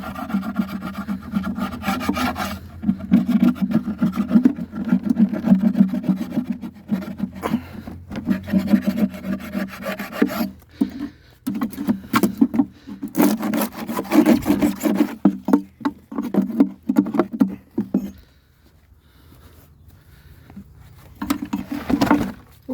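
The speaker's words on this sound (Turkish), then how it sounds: "petek kırıntılarını kazıyorum ki buraya tekrar bu ağrı işlem yapmasın" Scraping old comb remnants out of an empty wooden beehive whose colony died over winter, a repeated rasping, rubbing scrape in close bursts with short pauses, fading to quiet near the end.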